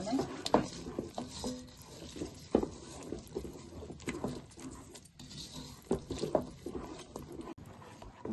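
Sesame seeds and ghee being stirred into a sweet ariselu mixture, giving soft, close, uneven mixing and scraping sounds with faint pot clatter, fairly quiet throughout.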